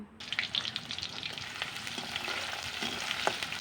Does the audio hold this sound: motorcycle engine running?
no